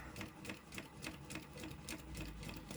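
A sewing machine fitted with a skinny presser foot stitches a zipper seam, its needle chattering in a fast, even rhythm close by with no voices over it.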